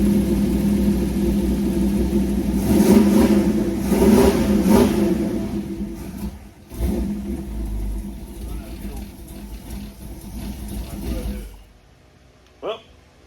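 A 1932 Ford roadster hot rod engine running on four IDF carburetors revs loudly and close in repeated throttle blips, settling into a rough rumble before sputtering out as the fuel runs dry, with a short sound near the end.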